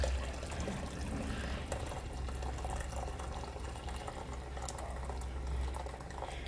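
Half a litre of milk pours steadily into a pot for yogurt-making, a soft continuous liquid rush with low rumble, fairly faint and close, without talk.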